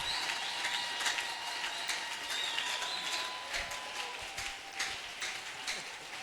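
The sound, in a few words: audience applauding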